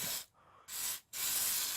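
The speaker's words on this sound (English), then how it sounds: "So I'm just gonna spray" Two short bursts of aerosol cleaner spray hiss from a can onto a greasy hydraulic leak area of a Jaguar XJ40, followed by a longer spray, with brief silent gaps between them.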